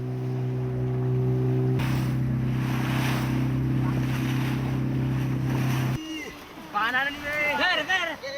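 A whaling motorboat's engine drones loudly over wind and sea, then cuts off abruptly, and voices follow.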